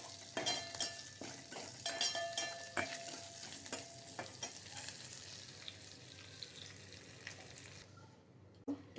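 Mustard seeds frying in a tablespoon of hot oil, a faint continuous sizzle with scattered crackles and pops, a few louder ticks near the end.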